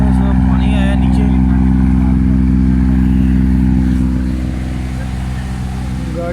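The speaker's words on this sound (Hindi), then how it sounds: "गाड़ी के आरपीएम तकरीबन 3000 के करीब हैं।" Close, steady engine drone from a Japanese Khyber 86 model car suffering black smoke, black plugs and a starting fault, held around 3000 rpm before easing slightly lower in the final seconds.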